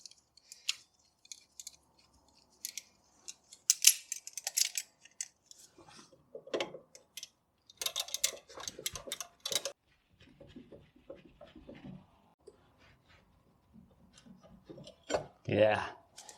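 Vice grips clamp and clank against VW front disc brake parts during disassembly, giving scattered metallic clicks, scrapes and rattles close by, with a louder squeaky scrape near the end.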